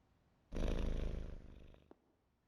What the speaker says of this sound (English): Aw, who is a good kitty?